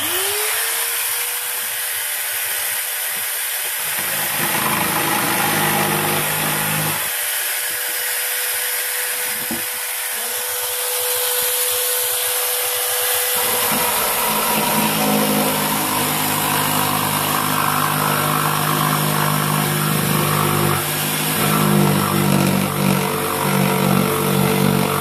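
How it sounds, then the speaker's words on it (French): A jigsaw cutting wood with its blade mounted reversed, a steady buzzing motor whine with rough sawing texture that starts, pauses briefly and resumes, then runs on continuously and close. "je vais vous faire un exemple avec la scie à l'envers"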